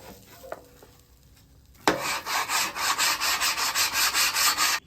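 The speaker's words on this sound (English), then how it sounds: "I wanna clean the griddle really quick" A hot griddle being cleaned, quiet faint scraping at first, then a sudden louder onset of rhythmic back-and-forth scrubbing strokes with sizzle, about a dozen even passes close by.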